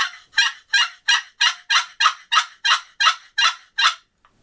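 A cherry wood turkey call imitates a hen with a steady series of about twelve sharp, evenly spaced yelps, loud and close, ending in a tiny final click.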